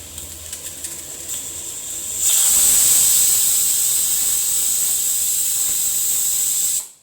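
After soft kitchen sounds, a pressure cooker full of vegetables bursts into a loud, sharp, sustained steam hiss that runs steadily for several seconds, then cuts off abruptly.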